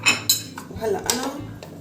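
A spoon clinks and scrapes against a bowl while mixing dry spices: cinnamon, coriander, mandi spice blend, cumin and paprika. There are a few sharp, close ticks with softer rubbing between them.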